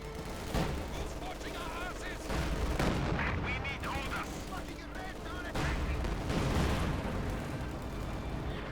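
Howitzer artillery firing in the Company of Heroes 2 video game, a B4 heavy gun, with loud booming blasts near 0.5 s and again near 5.5 s over a continuous dense battle din with faint voices.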